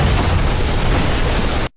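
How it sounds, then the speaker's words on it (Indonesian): A bazooka shell explodes in an action film, a loud, dense, roaring blast filling the whole range for over a second before cutting off abruptly into silence. "meledak."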